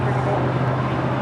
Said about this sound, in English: This is Global Air Charters departing to Visalia on a Gulfstream 5.